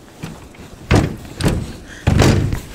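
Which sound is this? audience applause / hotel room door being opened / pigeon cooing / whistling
hotel room door being opened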